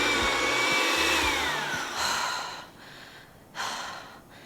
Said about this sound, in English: Can this mixer even handle all this cheese?